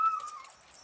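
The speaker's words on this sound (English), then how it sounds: "How dare my neighbors walk their dogs down the street" A neighbor's dog out on the street gives one brief, thin whine or yip that fades fast, faint and somewhat distant, with no talk over it.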